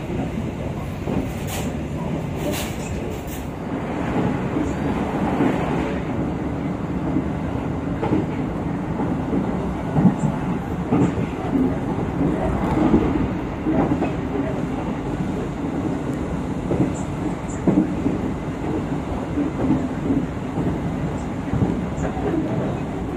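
Steady rumble of the Blambangan Express passenger train rolling along the rails near Surabaya, Indonesia, with continuous low rattling and occasional clacks, close and sustained throughout.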